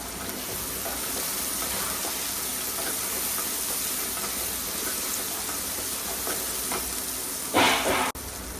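Green chillies fry in a pan of tomato base for a karuvadu kulambu, giving a steady close hiss and sizzle with a sharp louder spit near the end.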